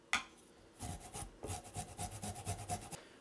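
Peeled ginger rubbed against a kitchen grater in quick rasping strokes, close and fairly loud, with a steady back-and-forth rhythm and no talking.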